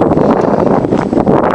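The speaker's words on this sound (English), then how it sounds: "It's quite windy today." Wind buffets the microphone outdoors on a blustery day near a creek park, a steady, close, rumbling roar with gusty swells and no voices.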